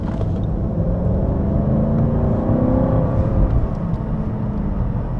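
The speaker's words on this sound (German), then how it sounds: "Das ist V8, noch mit ordentlich Hubraum." A Mercedes W220 S500 with its 5-litre V8 drones steadily while driving, a deep, even engine rumble that holds at a constant level throughout with no voices.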